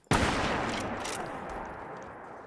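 A single sharp gunshot in Fallout 4, a headshot fired at a raider gang location, cracking out loud and close, then a long echoing tail that fades over a couple of seconds.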